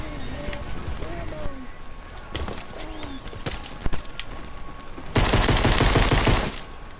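Automatic gunfire in Fortnite Battle Royale, rapid bursts crackling throughout with a dense, loud volley near the end, mixed with game sounds and voices talking over it.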